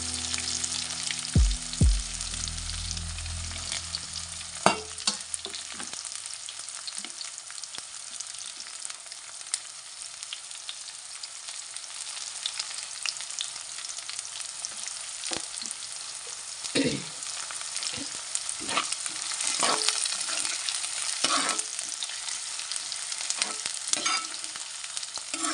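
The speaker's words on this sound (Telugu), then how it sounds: "ఉల్లిపాయలు ఏంటంటే కొంచెం మగ్గాలండి." Onions frying in a pan for mutton curry, giving a steady sizzling hiss with scattered louder pops and a few stirring knocks near the start.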